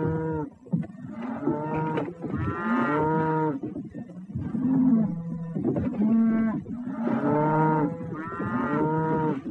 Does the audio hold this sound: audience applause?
no